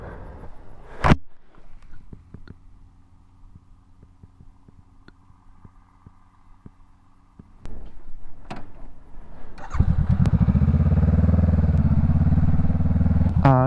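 A 2019 Honda CBR500R with an aftermarket exhaust starts up: after quiet idle-like hum and a few clicks, the engine fires and settles into a loud, steady, close rumble.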